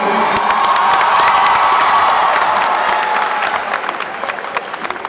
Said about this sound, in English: Let's give Mr. Chagall a round of applause.